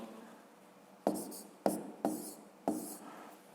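Handwriting math exercise numbers for a fifth-grade lesson: four short, separate pen or chalk strokes, close and fairly quiet, scratching against a soft background hiss with no speech.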